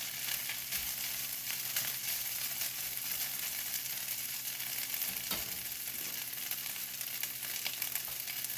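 Rice frying in butter in a pan, a steady close sizzle with faint scraping and crackle throughout, no voices.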